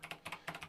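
Six or seven quick keystrokes on a computer keyboard, soft and fairly close, in an uneven typing rhythm, as a web address is entered.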